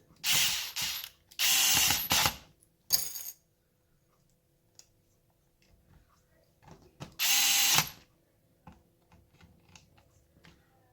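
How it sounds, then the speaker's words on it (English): A screwdriver drives long Phillips screws into a DragBug RC crawler's differential housing in short, close whirring and ratcheting bursts separated by quiet pauses, with small clicks in between. "Take my driver and put these 2 in nice and easy."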